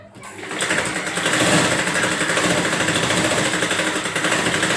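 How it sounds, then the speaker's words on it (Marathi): A sewing machine stitches all around the reverse side of a frock for a five-year-old girl, giving a close, continuous rapid mechanical whir with a fast, even rattle throughout and no talking. "उलटा भागावर सुद्धा अशाच प्रकारे आपण चारी बाजूने शिलाई मारून घ्यायची आहे"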